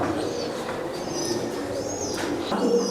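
Pakistani Tedi and Kasuri pigeons coo softly in a multi-storey breeder loft, several low throaty calls overlapping with faint chirps in a continuous murmur.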